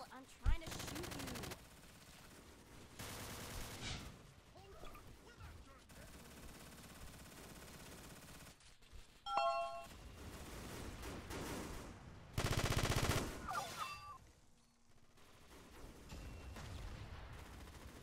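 Video game gunfire: quiet rattling bursts of shots come in short clusters separated by lulls, with a longer sustained volley late on.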